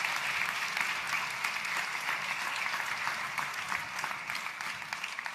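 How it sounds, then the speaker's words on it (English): Steady applause from an audience at a Purim play, a dense wash of clapping that continues without pause for several seconds. "let's give them all a rousing applause"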